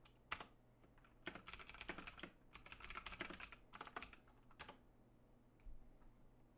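Keys clatter on a computer keyboard in quick bursts of rapid typing, separated by short pauses, fairly close and moderately loud with a low steady hum beneath.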